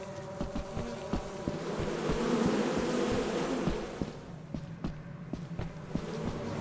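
A swarm of bees buzzes continuously in a video game, a droning hum that swells and then thins, punctuated by sharp thumps and footstep-like clicks close by.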